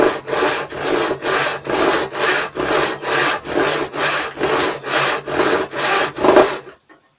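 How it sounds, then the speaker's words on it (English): A blunt rip saw cuts into a piece of wood in a workshop, giving about ten steady, evenly paced rasping strokes up close before stopping, with no talk. "Here's a piece of wood. I've always sawn into it here, but I'll start a new cut."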